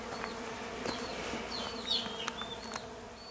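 Honey bees buzzing around a freshly removed honey super at an off-grid apiary, a dense steady drone close by with individual bees zipping past, no talk.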